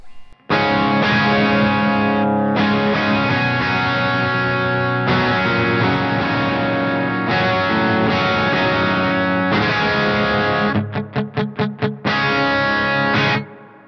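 Crunchy, distorted electric guitar from a Peavey Predator with a DiMarzio Tone Zone pickup, playing loud sustained chords with short gaps and a quick run of choppy stabs near the end, no voices.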